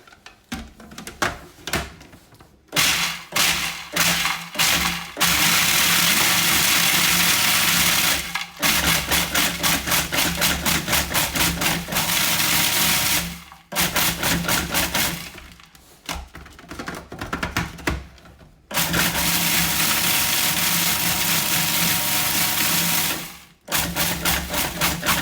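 A blender blitzing smoked almonds runs in loud, sustained bursts of grinding whir, roughly five seconds to ten seconds long, with a few short pulses at the start and brief pauses between bursts.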